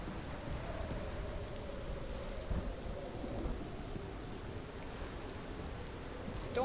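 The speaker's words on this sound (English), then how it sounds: "Storms aren't Hela's domain, it's Thor's" A thunderstorm in the video game Hellblade: Senua's Sacrifice brings steady, even rainfall hiss with a faint low rumble underneath, continuing without a break.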